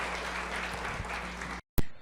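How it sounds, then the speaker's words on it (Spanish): A church congregation at a midweek Bible study applauds in praise: a dense, even wash of clapping that cuts off abruptly after about a second and a half, then a short burst returns. "Démosle un fuerte aplauso al Señor"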